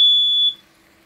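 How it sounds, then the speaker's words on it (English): A smoke alarm sounds a single sharp, loud electronic beep that cuts off, followed by quiet, in a cabin where bacon is cooking during an ice fishing trip. "Where's the smoke alarm in here?"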